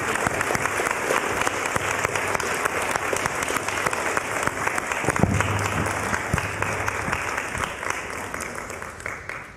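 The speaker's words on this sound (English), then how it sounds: "Can we give them a round of applause for joining the discussion?" Audience applause at an evening discussion event, a dense sustained wash of clapping from a crowd that holds steady for about nine seconds and tapers slightly at the end.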